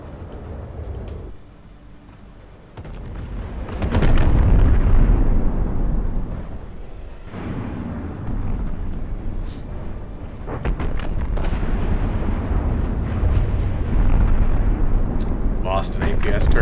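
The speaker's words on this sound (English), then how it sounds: "Ooh, big detonation there. Torpedoes ripping straight through the rear." Torpedo detonations in a space battle video game roll out as heavy, sustained booming rumbles, loud and dense, swelling and easing without a break for the whole stretch.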